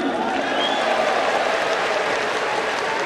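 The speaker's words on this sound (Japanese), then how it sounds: "この大歓声、お気持ちはありますか？" A baseball stadium crowd cheers and applauds during a post-game hero interview at a home game against Chiba Lotte. It is a loud, steady, dense roar that lasts the whole time.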